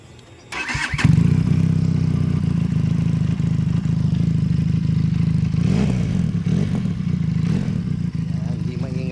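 A motorcycle engine starts up on a rural road in Jaen, Nueva Ecija, then runs steadily with a loud, close exhaust drone for the rest of the clip.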